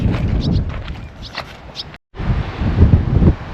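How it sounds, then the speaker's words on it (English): Strong coastal wind at Ningaloo buffets the microphone in heavy, uneven gusts, with a brief dropout in the middle before the roaring resumes. "It's a bit windy actually."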